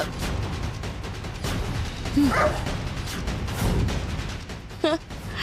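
A dog barks and yips a few times in short bursts, mixed in with people talking and background noise.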